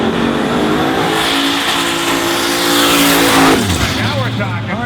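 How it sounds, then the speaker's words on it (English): A Ford Crown Victoria drag car doing a burnout at a drag strip event: loud, sustained engine roar with squealing tires, rising in intensity before cutting off abruptly near the end, close and powerful. "Now we're talking. Burnout looked good."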